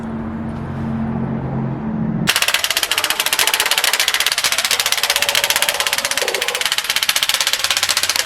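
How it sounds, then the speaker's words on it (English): A junkyard car engine, poorly rebuilt, cranks and fires up, then runs at a loud, rapid, steady idle with a rough, clattering pulse. "we'll see how this junkyard, poorly rebuilt engine or refreshed engine is gonna run"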